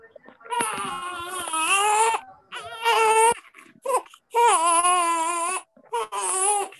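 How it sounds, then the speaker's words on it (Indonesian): A baby cries loudly and close by in repeated wailing bursts with short breaks between them, whimpering in the gaps, and no other voices are heard. "Ada suara anak bayi tadi."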